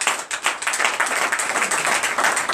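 Church congregation clapping to acclaim Jesus at a night deliverance and prophecy service, a loud, fast, dense clatter of hands with a rhythmic pulse that stays strong throughout.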